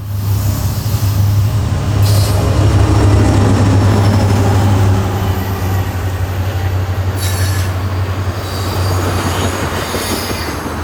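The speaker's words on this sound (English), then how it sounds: "Baltimore-bound ethanol loads K672 is led by NS 8773 and SD70M-2 2676 up the west slope" A freight train of ethanol loads rolls past close by, climbing the west slope of the Alleghenies at Garrett, an SD70M-2 and another diesel locomotive droning low beneath rumbling wagons, screeching wheels and clacking rails.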